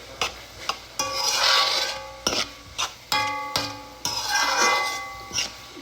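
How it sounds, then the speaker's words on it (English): Ham frying and being stirred in a pot, with repeated sharp scrapes and clinks of a utensil against the pot over a bright, crackling sizzle, close and fairly loud. "now we're gonna fry this. We want the ham to cook a little bit."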